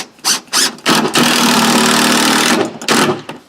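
A power driver drives a deck screw, starting with a few short whirring bursts, then a sustained strained motor whine of about one and a half seconds, followed by more brief bursts, loud and close.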